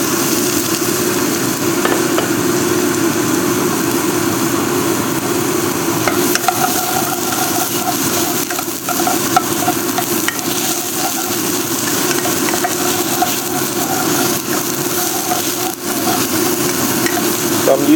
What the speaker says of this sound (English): now the pot is hot enough, so I'm going to put some oil in. And then get the mushroom in there.